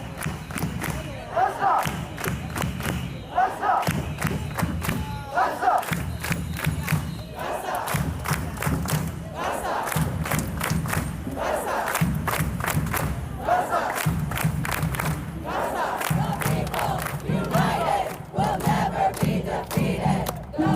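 Crowd of protesters under a highway chanting a rhythmic slogan in unison, the phrase repeating over and over with loud group shouts and thumping beats, reverberant and sustained.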